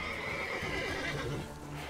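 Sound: horse neighing and hooves in The Witcher 3 video game

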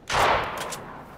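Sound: assault rifle gunfire in Fortnite video game

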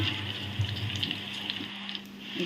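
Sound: green chillies and curry leaves frying in a pan

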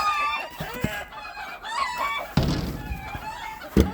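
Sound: chickens clucking and crowing in alarm

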